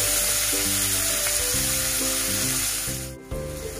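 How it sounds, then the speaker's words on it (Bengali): Raw onion fries in oil with black cumin seeds for a prawn and taro stolon curry. A loud, steady sizzling hiss runs throughout over sustained tonal sounds and dips briefly near the end. "তাহলে আমি তেলের মধ্যে কালো জিরে দিলাম, তারপর কাঁচা পেঁয়াজটা আমি এবার ভেজে নেব।"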